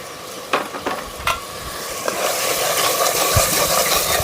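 Mutton curry for the Kanuma festival, seasoned with salt and turmeric, sizzles in a hot pan while a spoon scrapes and stirs it in a few sharp strokes before the frying hiss rises steadily and loud.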